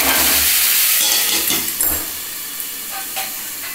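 Pointed gourd (potol) hits a hot oiled pan, giving a loud bright hiss of sizzling that is strongest at first and eases into a quieter, steady fry.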